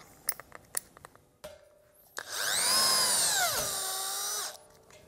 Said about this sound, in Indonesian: Nah sekarang akan saya cobain untuk nyekrup baja ringan ya, bor dongceng ini.